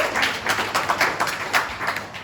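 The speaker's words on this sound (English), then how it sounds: "Applause for Victor" Meetup audience applauding a speaker, a light scattering of claps from a small crowd at moderate distance, fairly quiet and lasting a couple of seconds.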